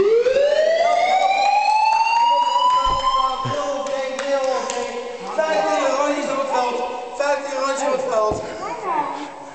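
A building fire alarm sounds with a rising electronic siren sweep that then continues as a wailing tone, while voices talk over it nearby.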